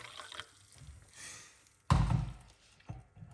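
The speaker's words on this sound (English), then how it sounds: "We're gonna put 2 cups of hot water" Two cups of hot water poured into a pot for coriander tea, a sudden splashing gush with low thumping body, preceded by faint handling knocks and followed by a soft clunk.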